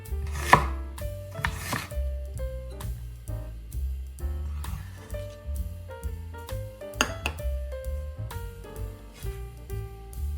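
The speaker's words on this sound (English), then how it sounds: "30 grams of onion, cut into half moons." A knife chops 30 grams of onion into half moons on a cutting board, giving a steady run of sharp knocks with a few louder strikes, under soft background music and no talk.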